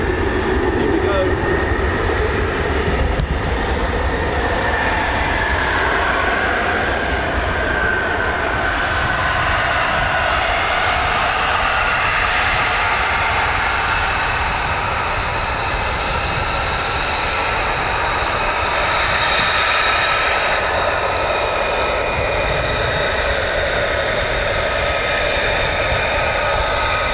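F-15 or F-35 fighter jet taking off at RAF Lakenheath with the 48th Fighter Wing: a loud, sustained jet engine roar that holds steady throughout, with a broad whining rush and no break.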